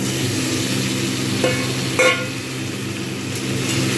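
Chicken pieces sizzle in a pan of fried onions for a Mughlai chicken curry, giving a steady loud hiss with a couple of brief clatters partway through.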